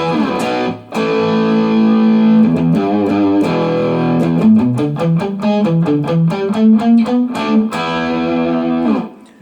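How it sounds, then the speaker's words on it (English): An electric guitar plays through a crunch pedal into an Orange Crush practice amp, loud and close, with chords and single notes giving a full, driven distorted tone over several seconds. "You can hear it's just got a great full-bodied crunch tone to it."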